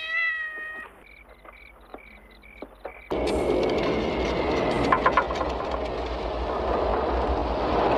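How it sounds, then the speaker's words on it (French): A cat gives a clear meow, followed by a sequence of short soft tonal calls, before a loud rumbling, rattling noise like a passing train takes over and continues to the end. "Avec des sons de miaulement, mais le chat n'ouvre pas la bouche."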